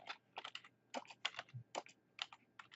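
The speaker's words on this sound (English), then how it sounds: "we'll go back to our Excel sheet and we'll type in" Keys clatter on a computer keyboard while entering data into an Excel spreadsheet, a quiet, irregular run of close, crisp taps in short bursts with brief pauses between them.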